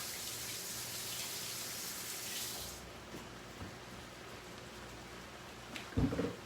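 Water pours steadily over about two pounds of salt cod, a loud continuous splashing rush for nearly three seconds that then drops to a quieter trickle, with a few clunks and a brief louder splash near the end.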